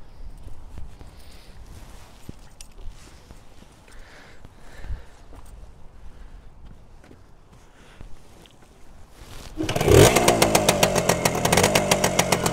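Quiet shuffling and clicks, then a Suzuki RV125 two-stroke motorcycle engine catches and starts, settling into a loud, rapid, buzzing idle close by.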